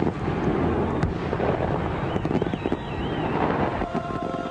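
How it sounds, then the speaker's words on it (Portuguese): Fireworks burst amid a loud, gusty rushing wash of noise, with sharp cracks scattered through and a thin whistling tone rising and wavering near the middle. "Fogos de artifício."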